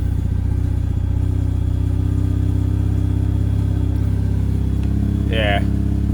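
A Mazda RX-8 four-port rotary engine idles and revs in a steady, loud, buzzing drone throughout, with a brief higher chirp near the end and no speech over it.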